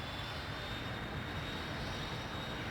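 A Dassault Dornier Alpha Jet engine at full throttle in a flight simulator game, a steady, unbroken jet roar and rushing hiss holding constant from start to finish with no voices.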